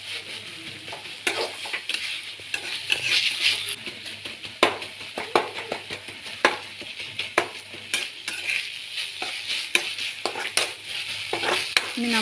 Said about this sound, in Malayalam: തക്കാളി ഇടയ്ക്കൊന്ന് തവി വെച്ച് ഉടച്ച് ചേർത്ത് കൊടുക്കുക.